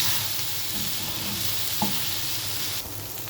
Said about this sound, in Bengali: তেলের সাথে মাছ ভাজা ভাজা হলেই হয়ে যাবে